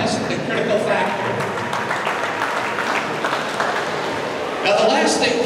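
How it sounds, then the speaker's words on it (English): Audience applause at a hypnosis show in a Punta Cana resort, a sustained wash of clapping that runs through the whole stretch and swells louder near the end. "Give yourself some more round of applause"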